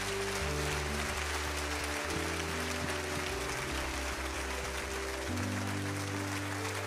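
A church audience gives a pastor a long round of applause, a dense, even wash of clapping from many hands, heard at a distance beneath steady music.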